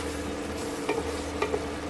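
Boiled cowpeas and potato sizzle steadily in a pan of hot tempering oil, with a couple of brief utensil clinks from stirring partway through and no talking.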